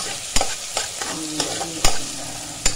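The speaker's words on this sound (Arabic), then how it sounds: "البصلة عملنا بصلة واحدة بس فرمناها وبنحمرها كده في الزيت تحمر شوية" One finely chopped onion fries in oil with a steady hiss, punctuated by about half a dozen sharp clinks and scrapes as a utensil stirs the pan at close range.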